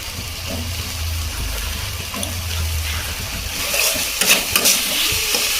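Grated coconut being stirred into melting jaggery in a pan: soft scraping and a gentle sizzle continue steadily, with a few sharper clinks of the spoon against the pan toward the end.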